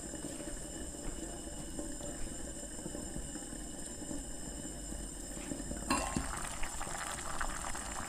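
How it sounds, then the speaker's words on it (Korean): Water poured into a pot of simmering cheonggukjang (Korean fermented soybean stew) with cooked meat, a steady liquid bubbling and splashing that grows louder and busier partway through, close by, with no talking. "500ml 물을 넣어주겠습니다"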